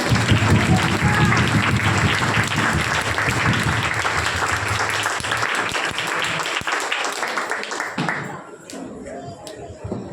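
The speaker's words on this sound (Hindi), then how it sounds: "सारी गवाही के लिए बहुत जोर से तालियां।" Loud, sustained applause from a church congregation after testimonies, dense clapping that thins and fades toward the end with a few scattered claps.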